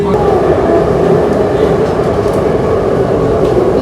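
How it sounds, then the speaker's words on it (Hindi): A Meerut Metro train runs steadily, a loud continuous rumble and rolling hum heard from inside the carriage with no pauses. "सो हम फर्स्ट टाइम ये नई मेरठ मेट्रो से गए हैं यहाँ पे"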